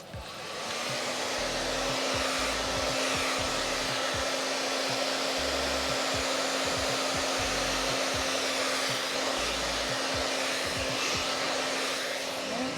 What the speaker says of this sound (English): you want to blow dry the hair, and you want to try to get it as straight as possible